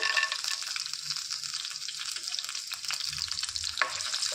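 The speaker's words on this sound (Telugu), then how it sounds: "పావు టేబుల్ స్పూను మెంతులు వేసుకోవాలి, 1 టేబుల్ స్పూను ధనియాలు, 1 టేబుల్ స్పూను పల్లీలు వేసి వేయించుకోవాలి" Fenugreek, coriander seeds and peanuts dry-roast in a pan with a steady rustling and crackle as they are stirred. A scrape or two stands out near the end, and no voices are heard.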